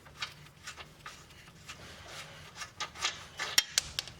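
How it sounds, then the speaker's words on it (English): A loosened ball joint bolt on a 2013-2019 Nissan Sentra spun off by hand, producing close, quiet scraping ticks and rubs in an irregular rhythm, with a couple of sharper metallic clicks near the end. "So once it's loose enough, you could spin the bolt right off."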